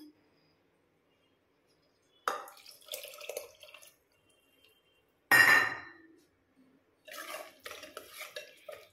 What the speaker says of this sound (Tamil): இப்போ நான் இதில் புளி தண்ணி ஆட் பண்ணுறேன்.